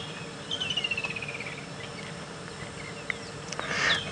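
Lilac-breasted rollers on a sunset safari drive give harsh, rasping calls, a descending run of rapid pulses, then a short loud, squawking burst near the end over faint outdoor ambience.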